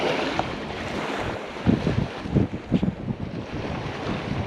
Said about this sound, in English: Wind is blowing against it.